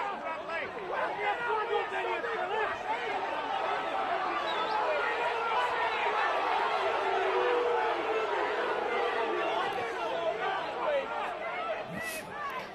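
Rugby league crowd at a 1996 Bradford versus London match roars in sustained, heated jeering after a late tackle, a dense wall of shouting voices with a commentator talking over it.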